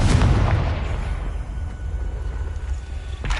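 A Confringo fire spell blasting in Hogwarts Legacy, a loud, deep booming burst that rumbles and slowly fades, with a fainter pop near the end.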